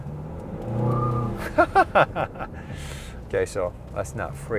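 A 2021 Kia Sedona minivan peels out and accelerates hard, its engine note rising beneath someone talking close by, with clicks and rustles in the cabin.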